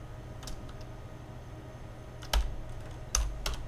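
A few sparse keyboard clicks and two louder key thumps over a quiet background hum, a computer keyboard being typed on while editing a Far Cry 5 arcade map.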